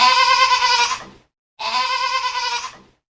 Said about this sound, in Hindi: बकरी की आवाज।